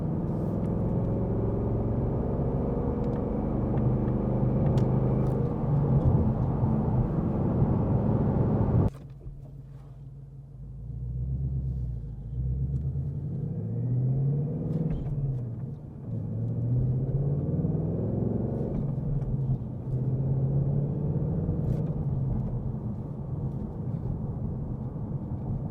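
A 2026 Ford Mustang GT with a manual 5.0 V8 and Performance Pack cruising normally, giving a loud steady low engine drone and road rumble that drops suddenly to a quieter, wavering hum as the revs ease, with no voices.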